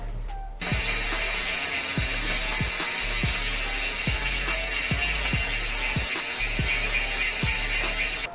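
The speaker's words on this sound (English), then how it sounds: "Now the initial chain cleaning." An indoor bike cleaning in a small room: a dirty bicycle chain is run backward through a cleaner, giving a steady loud ratcheting whir with regular clicking ticks about every half second, close and continuous.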